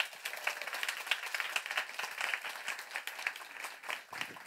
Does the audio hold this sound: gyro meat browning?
no